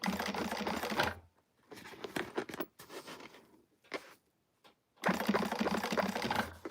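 A sewing machine stitches a bag seam in two loud, fast-running bursts at the start and end, with short stop-start runs and quiet pauses between.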